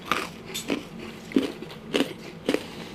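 Crunchy baked biscuits are bitten and chewed close up, a series of five or six sharp crunches spaced about half a second apart over a quiet background.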